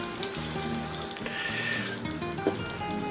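Chicken with peppers fries in a pan on lowered heat, a steady close sizzle with occasional stirring scrapes and one small pop near the end, no voices.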